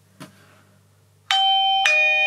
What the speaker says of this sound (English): Okay, so with everything set up, we're going to press the doorbell.